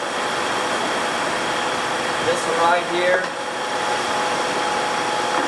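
2008 Cadillac SRX engine idling steadily after an oil pressure sender switch repair, a constant close hum with someone talking briefly over it.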